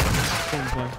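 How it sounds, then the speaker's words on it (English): A brief, dense burst of rapid gunfire in the battle royale game Warzone 2, loud and continuous for about a second, with a player's voice overlapping. "This guy was shooting at somebody."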